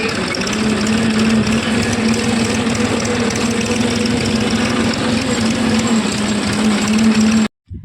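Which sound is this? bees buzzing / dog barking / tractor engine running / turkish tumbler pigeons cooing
tractor engine running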